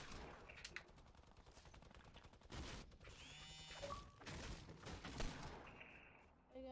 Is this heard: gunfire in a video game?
yes